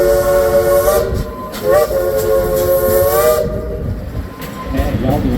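A steam train whistle on a two-foot gauge line in the Ozarks sounds in repeated loud toots with layered harmonic tones, over the hiss and rumble of a moving train.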